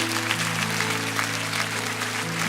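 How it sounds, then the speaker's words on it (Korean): A church congregation applauds in a steady, continuous wash of clapping that holds at an even level, with sustained organ or keyboard tones underneath. "우리 큰 박수로 이분들을 축복합니다."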